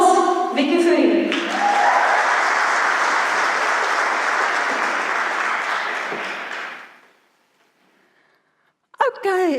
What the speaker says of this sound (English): Ladies, please help me welcome, give a round of applause, Vicki Fourie.